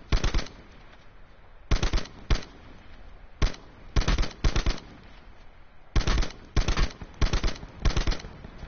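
Rapid gunfire in the Call of Duty Blackout battle royale mode, loud bursts of automatic shots in short clusters separated by quiet gaps.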